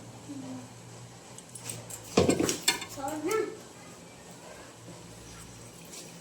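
Meat pieces being added to a biryani cooking pot, a burst of clattering metal and scraping in the middle, with a soft voice and quiet background before and after.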